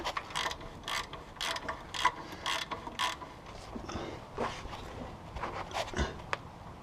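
A ratchet tightening the rear catalytic converter bolts on a 2001 Honda Accord, with bursts of rapid metallic clicking strokes, pausing and restarting, close up with no talk.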